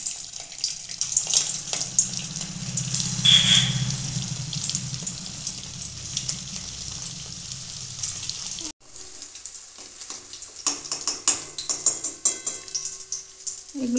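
Vegetable kofta balls fry in hot oil, a steady broadband sizzle running continuously for most of the stretch, then cutting off abruptly before a quieter, scattered crackle returns with faint handling clatter.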